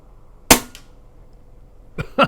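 A Pinty bullpup air rifle fires at a 50-yard target: one sharp, close crack rings out, followed about a second and a half later by two fainter, quick pops over quiet background hiss.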